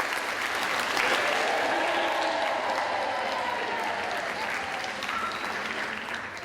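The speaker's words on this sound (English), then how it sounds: "Round of applause for the teachers." Enthusiastic crowd applause for a group of teachers taking on a sport relief polo match challenge: sustained, loud clapping that holds steady for several seconds before tapering slightly at the end.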